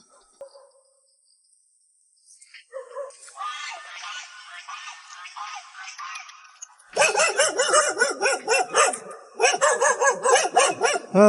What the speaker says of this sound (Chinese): 我听到这个狗叫声我都